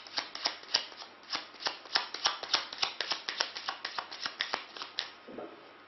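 Playing cards shuffled by hand during a magic trick, a quick steady run of crisp riffling flicks, close and fairly quiet, stopping near the end.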